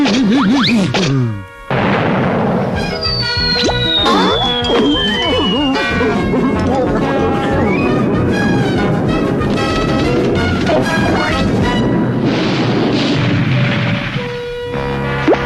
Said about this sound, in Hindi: जल्दी आयरोना, तोप में गोला भरो, वो लोग निकल रहे हैं।